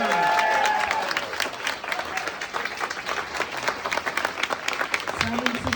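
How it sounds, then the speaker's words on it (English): Audience applause at an event in San Francisco, a steady crowd of clapping hands, with someone speaking over it at the start and again near the end. "a round of applause for Kara Swisher"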